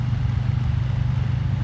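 A Harley Davidson Street Bob motorcycle with a Dynojet-tuned engine rumbles at a steady idle, a loud, close, low throbbing pulse with no talk.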